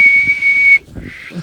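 A person whistles a single long, steady high note, then breaks off into a softer, wavering whistle.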